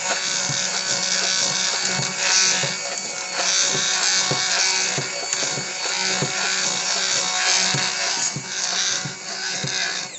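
Electric mixer blending homemade mayonnaise ingredients, a loud steady high-pitched whir with a rhythmic pulsing beat as the beaters turn, running nonstop throughout.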